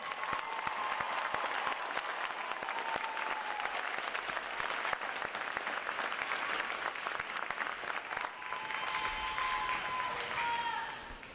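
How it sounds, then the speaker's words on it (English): Sustained applause from a large audience at a U.S. Navy recruit boot camp graduation ceremony, dense clapping filling the space for over ten seconds with a few voices and a faint tone underneath. "How about a round of applause for that outstanding performance today?"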